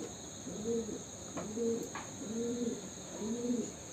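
Domestic pigeons coo nearby in four evenly spaced, soft rolling calls over a quiet background with faint high insect-like hum.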